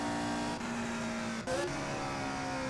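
A race car engine in the Indianapolis 500 Evolution video game at 1964 Milwaukee, a steady droning hum that drops in pitch at each of two brief gear shifts, heard alone and fairly faint.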